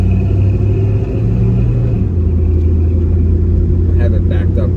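1972 Chevrolet Nova driving on a road, heard from inside as a loud constant low engine rumble and road noise, with someone talking over it.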